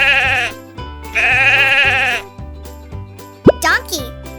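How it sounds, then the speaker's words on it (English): Sheep bleating, several wavering, nasal bleats close by, each about a second long, separated by short pauses. A brief sliding plop-like sound follows near the end. "How does a sheep sound?"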